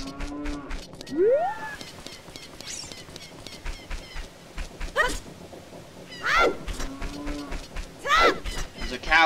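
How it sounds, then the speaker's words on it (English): A cow moos in The Legend of Zelda: Ocarina of Time Master Quest, several drawn-out game moos with rising and falling pitch spread across the stretch, mixed with other game sound effects and faint ambience. "There's a cow in there."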